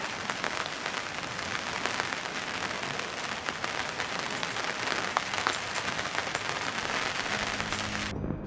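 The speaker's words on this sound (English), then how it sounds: "Half an hour ago it was beautiful sunshine. Raining now." Rain pours steadily on a campsite, a dense, even hiss with scattered sharper drops pattering on nearby surfaces, continuous and close, until it cuts off abruptly at the very end.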